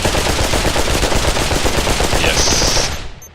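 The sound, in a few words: AK rifle firing in Pavlov VR video game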